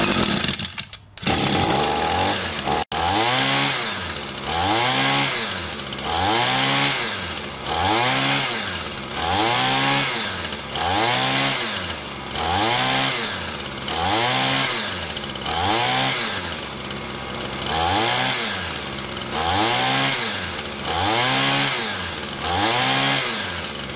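A two-stroke ECHO string trimmer engine runs steadily close by, its rapid buzzing rising and falling in a regular rhythm of repeated throttle surges throughout, with no voices present.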